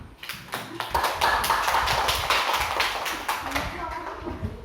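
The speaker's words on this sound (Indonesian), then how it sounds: "Kita kelompok 2 kasih tepuk tangan ke kelompok 3." A classroom group breaks into applause, a dense burst of many hands clapping for several seconds, fairly close, with voices talking faintly underneath.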